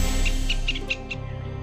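Short high chirps from birds in China's Wuyi Mountains repeat about six times in quick succession over a low steady background rumble.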